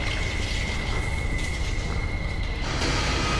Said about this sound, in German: Hier das Ton von dem bösen Viech.